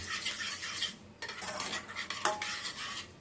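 Spoon stirring baby food in a metal pot over a low flame, a steady scraping and clinking that runs throughout with a faint sizzle beneath.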